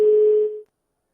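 A single steady telephone busy tone sounds loud and clear for about half a second after the caller hangs up, then cuts off into silence.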